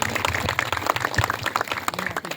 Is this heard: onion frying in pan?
no